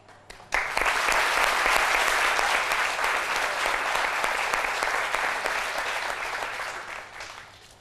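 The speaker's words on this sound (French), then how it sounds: "Mesdames et messieurs, merci de le recevoir avec vos applaudissements" An audience breaks into sustained applause to welcome a guest at a televised French-language event, loud and dense from the start and slowly tapering toward the end.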